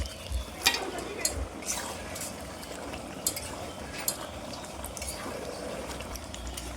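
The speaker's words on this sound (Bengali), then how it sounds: "নেড়ে চেড়ে মশলার সাথে মটনটা ভালোভাবে মিশিয়ে নিচ্ছি" Seven kilos of mutton stirred into oily, well-fried masala in a large pot for a wedding feast, a soft continuous sizzle with scattered scraping clinks of the ladle, fairly faint.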